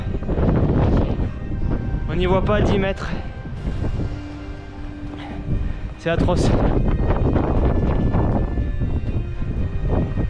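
Stormy wind buffets the microphone with a deep, continuous roar on the stormy Pic de Nore summit in light rain and thick fog. Someone talks throughout over the gusting rumble.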